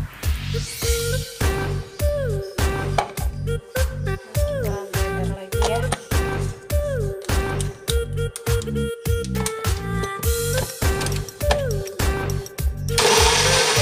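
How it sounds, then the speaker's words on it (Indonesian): A loud motorized blender whirs steadily, grinding shallots, garlic, turmeric, oil and water, its pitch surging and dropping in rapid pulses. "Blender sampai halus kurang lebih 1 menit."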